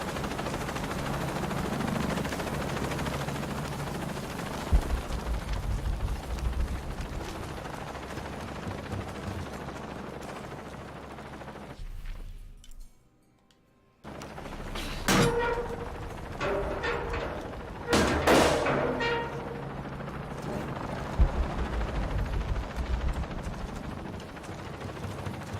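Helicopter in the Shadow of the Tomb Raider video game, a continuous rotor thrum that cuts out abruptly for a moment, then returns with sharp crashing impacts and bursts layered over the drone.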